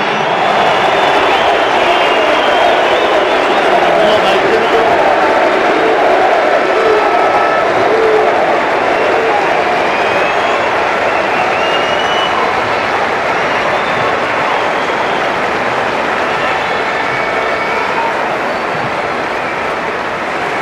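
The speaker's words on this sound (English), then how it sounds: "And a fitting round of applause for Wayne Rooney." A Manchester United stadium crowd applauds Wayne Rooney in a steady, loud, unbroken roar of clapping and cheering that fills the whole stretch without easing.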